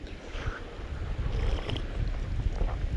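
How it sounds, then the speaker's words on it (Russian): Strong autumn wind buffets the microphone outdoors while fishing, a steady low rumble with gusty surges and a faint rushing, splashing texture in the background. "Ветер очень сильный."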